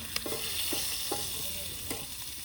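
Food sizzles hard in a hot pan while a utensil stirs it, giving a loud, constant frying hiss broken by several scraping knocks close by.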